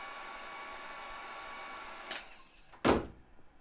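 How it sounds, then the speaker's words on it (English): A heat gun softens a Kydex holster with a steady, close airflow hiss that cuts off near the end, followed by a couple of short knocks from handling the plastic. "it doesn't take a whole lot with the heat gun to get this kydex malleable enough to work with it"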